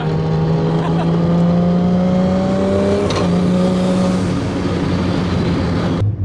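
Mazda FD RX7 rotary engine droning at steady revs with rising pitch, heard from inside the car, with a faint sharp exhaust pop near the end over continuous engine noise.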